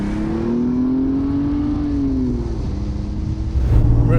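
A 400bhp Toyota Supra with a 2JZ engine, heard close from inside the car while driving, holding a steady loud drone that rises slightly, then drops, before a deeper surge of acceleration at the end.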